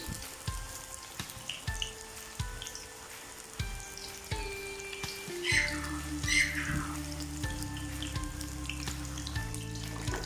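Spinach and potato pakoras fry in hot oil with a crackling sizzle, while clinks, knocks and a trickle of running water sound nearby. There is no talking.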